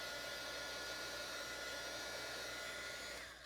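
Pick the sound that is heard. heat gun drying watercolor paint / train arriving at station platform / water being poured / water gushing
heat gun drying watercolor paint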